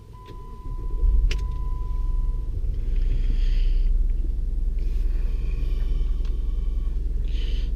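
A Jeep Commander engine cranks and catches after about a second, then settles into a steady, close idle rumble with faint ticks and light clatter above it.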